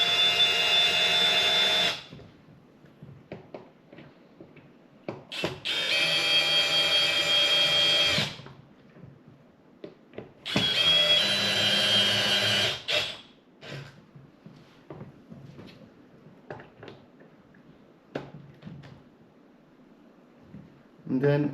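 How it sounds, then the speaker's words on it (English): A power drill drives screws into a 3D printed Fender Telecaster-style guitar body in three loud, close whirring bursts of a few seconds each, separated by quieter handling noise and clicks. "I'll just use my drill to torque these down, just enough to make sure they're nice and snug"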